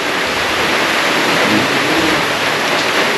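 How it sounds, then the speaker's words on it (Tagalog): Heavy rain pours down during a storm in a steady, dense hiss that stays loud and unbroken, with no talking. "Grabe itong ulan na ito, hindi naman makisama."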